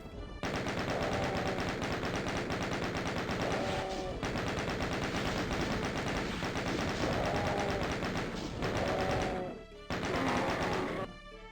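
Rapid continuous gunfire in the video game Doom as the player shoots a Baron of Hell, sustained bursts of automatic shots with brief pauses near the end, accompanied by game music.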